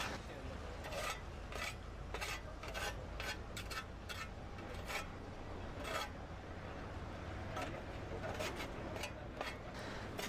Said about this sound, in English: Next, the excess concrete is removed with a trowel.